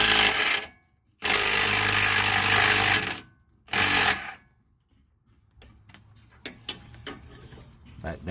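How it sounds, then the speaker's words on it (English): Pneumatic impact gun driving lower control arm bolts on a 2012 Nissan Maxima, three loud sustained bursts of rattling hammering, the first short and the last brief, followed by quieter tool clinks and handling noises. "I'm using a impact gun, but a regular breaker bar and a ratchet would work"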